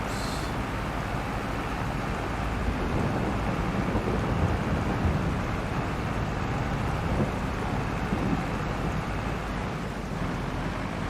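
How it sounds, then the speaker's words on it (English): Steady rain with deep rumbling thunder inside the video game Farming Simulator 22, a constant dense wash of loud, even noise running unbroken for the whole stretch with no talking. "And the rain comes."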